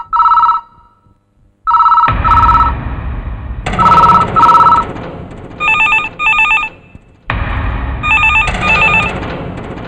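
A telephone rings loudly in repeated electronic bursts in a police station, with short pauses between the double rings and a background bed of dramatic film sound.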